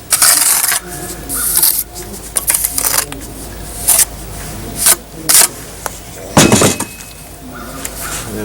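Stone veneer piece being cut and shimmed to fit, close scraping and grinding bursts with sharp clicks and knocks at irregular intervals, fairly loud, over steady background noise.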